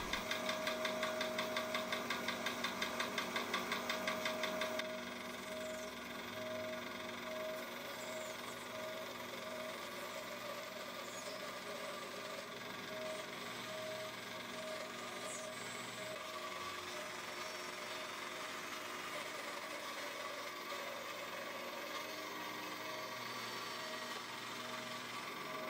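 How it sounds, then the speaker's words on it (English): A bandsaw resawing a wooden guitar body slab into two thinner halves, running as a steady mechanical drone with a buzzing, pulsing edge for the first few seconds before settling into an even, continuous whir. "After that, it's on to the bandsaw, where I will resaw the slab into 2 pieces with half the thickness."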